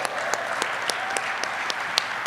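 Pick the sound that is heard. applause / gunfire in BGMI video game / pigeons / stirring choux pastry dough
applause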